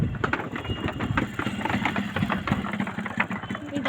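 Motorbike engine idling at a river crossing, a low steady rattling putter close by, with faint ambient noise and no clear talk.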